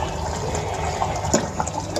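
Whisked yogurt poured into a Lahori mutton karahi, making a steady wet splashing and sizzling wash that stays fairly even throughout, with no voices.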